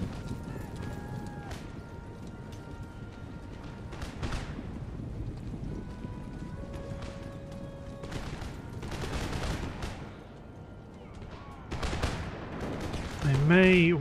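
Volley musket fire in Empire: Total War as infantry shoot at cavalry near a fortress wall, crackling bursts over hoofbeats and battle noise, with a horse whinny near the end.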